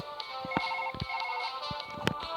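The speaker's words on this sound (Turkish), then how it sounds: "Telefon çalıyor." A telephone ringtone in the video game Surgeon Simulator plays in a repeating electronic pattern, punctuated by sharp clicks and taps nearby.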